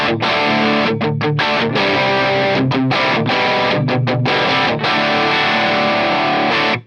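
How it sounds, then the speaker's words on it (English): Electric guitar played through the distortion of a 1980s Yamaha multi-effects processor, loud saturated chords and riffs with brief rhythmic gaps and sustained ringing notes, alone with no talk. "This is the distortion."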